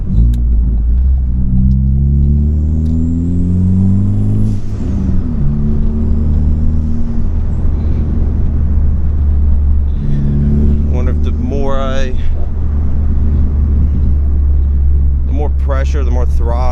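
Steady mid-pitched engine drone of a Ford Focus MK3 under throttle while driving, with a rising tone as revs climb, continuous road rumble, and someone talking over it.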